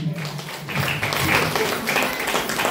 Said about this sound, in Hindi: सर जी के लिए एक जोरदार ताली।